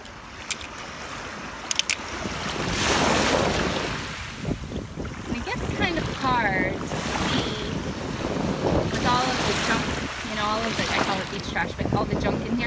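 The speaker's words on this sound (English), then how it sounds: "I'll show you guys the waves" Ocean waves wash onto a beach while shells are collected, a broad continuous surge with strong wind noise buffeting the microphone, a person talking over it in places.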